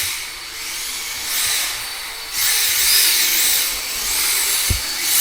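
A radio-controlled car fitted with an Acuvance Xarvis ESC drives past, its electric motor whining up and down in rising and falling surges, near and fairly loud, with a sharp knock near the end.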